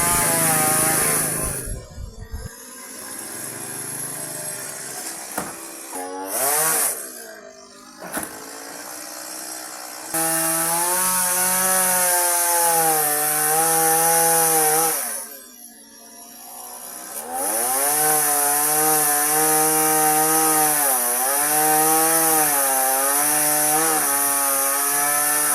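A chainsaw cuts through a tree trunk at a school: a loud, close engine drones and revs, its pitch sagging under load, with two brief dips where the throttle drops before it roars back.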